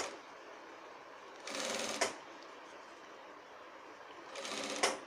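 Sewing machine stitching a shirt, two short bursts of rapid mechanical whirring, each ending in a sharp clack, separated by a quiet pause.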